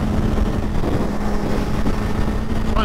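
A 2021 Suzuki Hayabusa accelerating hard in fourth gear gives a loud, sustained engine roar mixed with heavy wind rush, recorded from the rider's position.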